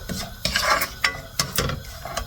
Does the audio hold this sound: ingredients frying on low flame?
yes